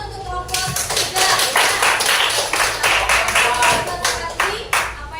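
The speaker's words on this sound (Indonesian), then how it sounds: "tepuk tangan untuk kelompok 3" A class of participants at a teachers' coaching session in Indonesia claps for group 3, a close, dense burst of hand clapping that holds steady for several seconds.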